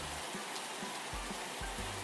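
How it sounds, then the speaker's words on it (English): Torrential rain pours down in a steady, dense hiss, with soft low thumps and gusts rumbling underneath, and no voices. "Torrential rain."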